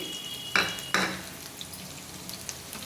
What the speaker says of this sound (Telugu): ఇలా వేసుకొని ఫ్రై అయిందాక ఇవి ఫ్రై చేసుకోవాలి.